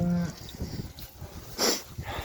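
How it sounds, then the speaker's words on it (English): A grazing farm herd of cows with a bull makes a low moo at the start, then snuffling, shuffling and sniffing noises nearby, with a sharp brief sound near the end; no one speaks. "Got the cows all starting to graze, coming around to get something to drink."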